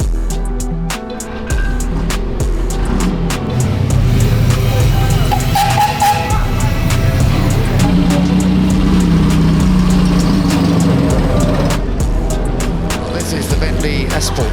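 A 1926 Bentley 4.4 litre four-cylinder racing car engine rumbles at a hillclimb event, a loud, continuous low engine drone that swells and holds, with someone speaking over it and crowd ambience.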